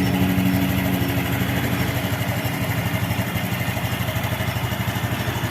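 Motorcycle engine idling with one battery disconnected and a burnt charging coil, a steady close chugging rumble with even pulses throughout and no talk.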